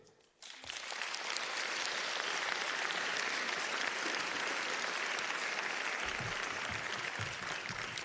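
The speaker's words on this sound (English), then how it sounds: "with a round of applause, welcome our debaters to the stage." A live debate audience breaks into applause to welcome the debaters to the stage, swelling up within the first second and then holding as a steady, full round of clapping.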